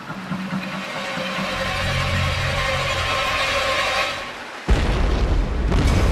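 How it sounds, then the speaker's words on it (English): A sustained, heavy rumbling roar builds and fades, then a bomb explodes against a liquefied natural gas tanker with a sudden loud boom and a burst of crackling debris. "The bomb's explosion splits the side of one of the tanks"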